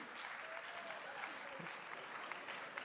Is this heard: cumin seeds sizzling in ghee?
no